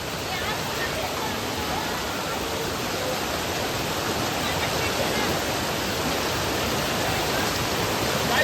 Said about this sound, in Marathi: तर फायनली आम्ही आता पोहोचलेलो आहोत वॉटरफॉल वरती.